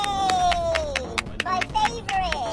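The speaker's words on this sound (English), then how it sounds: "Son, can you please stop clapping?" A child claps his hands in a steady, fairly quick rhythm of sharp slaps, heard under a voice talking throughout.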